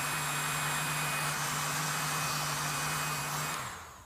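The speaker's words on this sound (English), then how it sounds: "As you can see, this vacuum has great suctioning powers." A ZOpid mini handheld vacuum cleaner sucks up breadcrumbs with a steady close whirring motor hum and airy hiss, then winds down as it switches off near the end.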